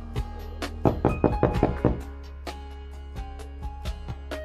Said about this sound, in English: Joseph knocks the door and asks,